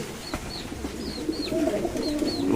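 Fancy pigeons in a loft give a series of soft, repeated coos, several short calls close by over a low background murmur, recorded during rain.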